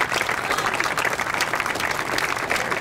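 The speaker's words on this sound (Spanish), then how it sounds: "Un aplauso para él, mira." A crowd applauds steadily for about three seconds, dense and continuous clapping filling the space at a fairly loud, even level.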